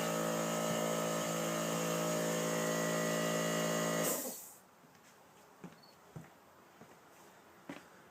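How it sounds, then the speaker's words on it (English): A workshop air compressor runs with a steady, loud motor hum, then shuts off abruptly partway through, leaving near-silence broken by a few faint clicks and knocks. "That's my air compressor when I shut that off."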